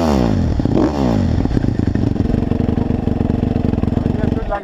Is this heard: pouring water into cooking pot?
no